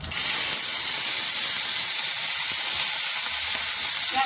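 Onions sizzle steadily in a small amount of oil in a pan with nigella seeds, for karela fry; a loud, continuous, close hiss that barely changes throughout, with no voices.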